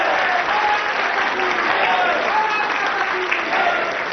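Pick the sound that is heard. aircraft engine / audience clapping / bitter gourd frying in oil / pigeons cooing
audience clapping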